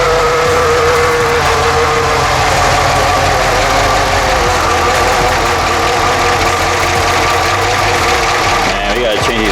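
A Pontiac Grand Prix GXP with a 5.3 V8 LS4 engine and noisy lifters idles loudly and steadily up close, with voices talking over the running engine.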